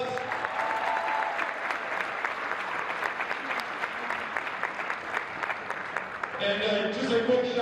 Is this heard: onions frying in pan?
no